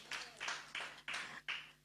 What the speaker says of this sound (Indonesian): Tepuk tangan bagi Tuhan kita Yesus.